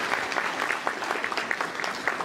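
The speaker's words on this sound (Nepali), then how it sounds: "म उनीहरूलाई तपाईँहरूले एकचोटि ताली बजाइदिनु हुनमा अनुरोध गर्दछु" Applause for graduates at an annual family gathering of the Lhenge family in the UK, a crowd clapping steadily and fairly loudly for a couple of seconds with no voices over it.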